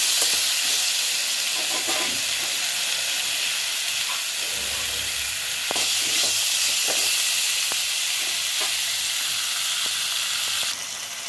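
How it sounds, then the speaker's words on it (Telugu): Turmeric fried in hot oil in a pan for eggplant curry gives a steady, close sizzling hiss that runs throughout, with faint scattered clicks of stirring and no voices. "వేసి తిప్పేసేయండి, అప్పుడే నూనెలో వేగుతుంది"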